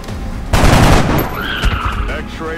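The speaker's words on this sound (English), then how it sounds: "Incoming fire!" Burst of rapid automatic gunfire in XCOM: Enemy Unknown, a dense loud volley about half a second in that trails into softer shots and electronic game tones.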